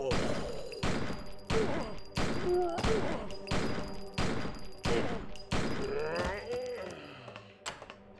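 Gunfire in the PC game Blair Witch Volume One: Rustin Parr, heard as a regular run of about nine heavy shots roughly every 0.7 seconds, with a spoken game instruction playing underneath.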